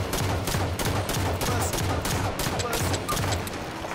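Rapid repeated gunfire in an online video game, bursts of automatic shots in a steady rhythm throughout, loud and dense.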